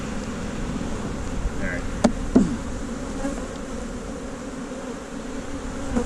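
Honey bees buzzing steadily around an open, heavily populated colony, with a constant mid-pitched hum and a few brief knocks. A voice speaks briefly.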